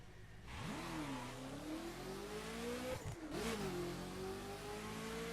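Mazda RX-7 engine in the racing video game The Crew, stock car: a steady, loud rising engine drone climbs through the revs, dips sharply at a gear change, then pulls and climbs again.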